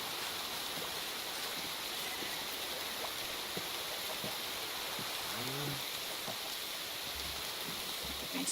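In-game rain on a farm in a Minecraft-style video game, a steady soft hiss with scattered faint animal sounds and no talk.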